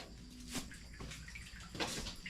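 Cold water is poured in a bathroom, with steady splashing and two louder splashes falling about a second apart at moderate volume.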